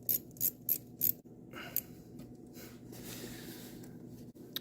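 A 7 mm ratchet clicks in a few short, sharp bursts while loosening the air boot clamp on a Porsche Boxster throttle body, close up, followed by quieter handling noise.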